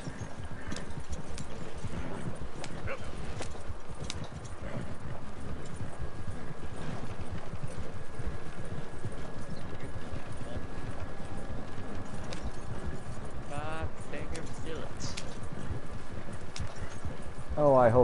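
A horse gallops in Red Dead Redemption 2 with fast, continuous hoofbeats, loud and close for the whole stretch, while someone talks over it.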